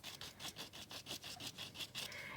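A sanding tool scrubs a wax seal in a steady back-and-forth rhythm, about ten quick, raspy strokes close up and fairly quiet, with no voices.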